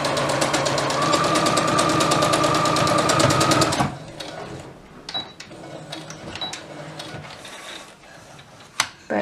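Sewing machine hemming the edge of a toddler's elastic waist dress, a loud fast steady mechanical whir for about four seconds, then stopping, followed by light clicks and handling sounds.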